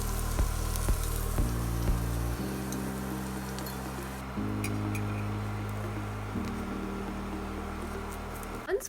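Frozen bread cooks in buttery garlic in a pan, giving a steady soft sizzle with a low hum running through it and a few light knocks near the start, all without any talking.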